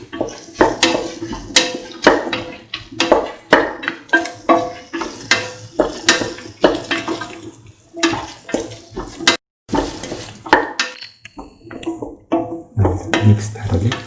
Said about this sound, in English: thoroughly mix the lime juice with the rest of the mixture